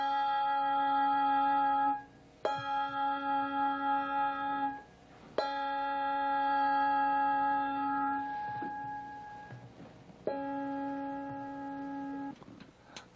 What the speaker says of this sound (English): The springs permit the clapper to override and strike the bell on the forward stroke, but then hold the clapper away and allow the bell vibrations to continue afterward.